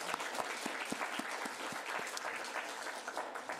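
Church congregation clapping together after a sermon, with quick distinct claps merging into a moderate, close round of applause that tapers toward the end.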